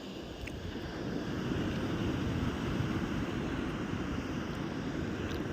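Constant rushing of sea waves mixed with wind on a coast in Spain, a steady broad wash of noise with no voices.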